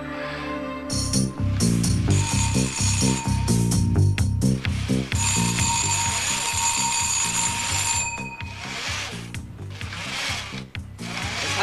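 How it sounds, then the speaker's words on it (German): A bell rings twice inside a home in a 1992 German crime drama, sounding brightly over underlying music that carries on throughout. "Es hat geklingelt."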